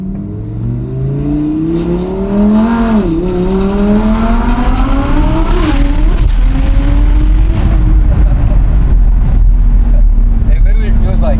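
A 2500-horsepower twin-turbo Audi R8 V10 pulls hard, its loud engine climbing in pitch through a gear change and wailing on as speed builds, with voices talking under the roar.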